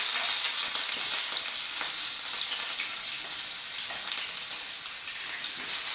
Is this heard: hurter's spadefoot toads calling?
no